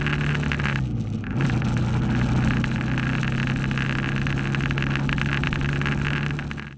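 A BMW G310GS motorcycle ridden along city streets in District 2 of Ho Chi Minh City, Vietnam, its engine droning steadily with a brief dip and a rise in pitch early on, loud and close with wind noise.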